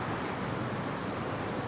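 Ocean surf rolls onto a beach at Da Nang, Vietnam, a constant broadband wash of breaking waves with some wind buffeting the microphone and no talking.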